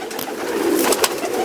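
Pigeons coo in a steady low murmur at a racing-pigeon keeper's loft in Kulgachhia, Bagnan, close and continuous through the brief moment, with no talking.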